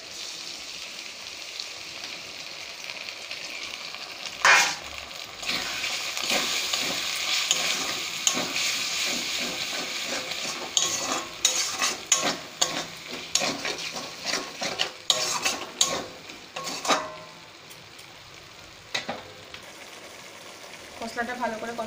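Masala with soy sauce, tomato sauce, chili sauce and cornflour frying for chili chicken: a continuous sizzle with repeated spatula scrapes and clatters against the pan, busiest in the second half, with a voice speaking now and then.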